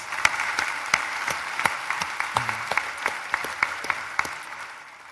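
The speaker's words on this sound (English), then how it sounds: "Let's give our academic deans a round of applause." A graduation ceremony audience at a university gives a sparse round of applause, with distinct individual claps over a steady patter of hands across a large hall. One brief murmur can be heard partway through.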